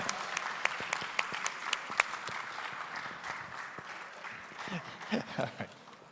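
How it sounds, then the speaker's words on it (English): Audience applause for forum panelists in a hotel ballroom at an international law forum, a steady patter of clapping with sharp individual claps standing out, lasting several seconds before thinning out. "let's give everyone a round of applause here"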